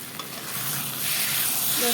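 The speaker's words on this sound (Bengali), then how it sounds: "এখানে ভাত আর মিষ্টি কুমড়ো ভাজি বসিয়ে দিলাম" Pumpkin slices fry in a pan with a loud, steady sizzle and hiss that grows slightly stronger, heard up close.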